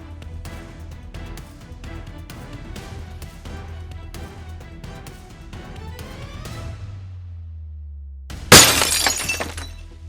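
Glass smashes loudly near the end as thieves break into a diamond store, a sudden bright shattering burst after a stretch of rhythmic music.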